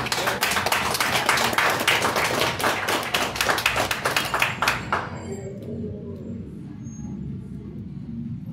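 Audience applause at a Father's Day festival press event for a wrestling tag-team pair, a burst of dense clapping that fades out around the midpoint, leaving a quieter room.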